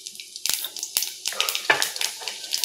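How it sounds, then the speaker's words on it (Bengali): Five-spice seeds hit hot oil, giving sharp bursts of crackling sizzle and spattering pops that repeat through the clip, close and fairly loud, with faint clinks of a utensil and no talking. "তেলটা গরম হয়ে গেছে, এইবার এর মধ্যে দিয়ে দেব ফোড়ন"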